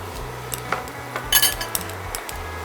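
Light metal clinks of a spoon against a pan and bowl while green peas halwa is transferred, several small taps scattered across a few seconds, close and fairly quiet.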